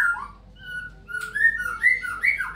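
A white-rumped shama in strong breeding condition sings clear, high whistled phrases that rise and fall, close and loud against a quiet background.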